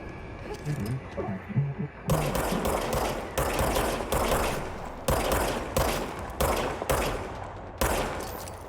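The player's gun firing in the video game Control: after some quieter game sounds, loud bursts of gunfire follow one another at a steady rhythm for several seconds.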